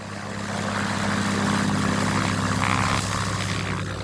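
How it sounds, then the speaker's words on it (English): A single-engine Cessna propeller plane used for mapping chemical plumes from the air, droning steadily and fairly loud with a constant engine hum that swells slightly midway. "It's a plane, a single-engine Cessna that can map chemical plumes from above in real time"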